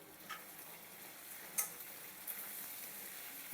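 Asafoetida dropped into hot tempering oil for mango pulihora gives a faint, steady sizzle with a couple of small ticks near the start and middle.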